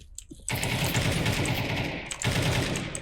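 Automatic gunfire in Counter-Strike 2 on the Dust2 map: a dense, sustained burst of rapid shots from about half a second in, with a brief break near the two-second mark before the firing resumes, loud and steady.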